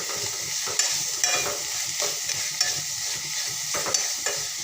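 Amaranth greens being stirred as they fry in a pan, a constant sizzle punctuated by repeated spatula scrapes and taps at an uneven rhythm, close and with no talking.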